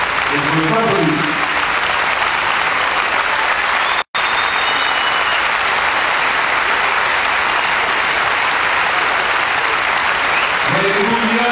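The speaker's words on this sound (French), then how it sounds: "Je voudrais qu'ils se lèvent et qu'ils nous applaudissent." An audience at a ceremony where a presenter gives someone the Commandeur des Arts et des Lettres bursts into long, dense applause, broken by a brief dropout midway, with voices heard faintly at the start and end.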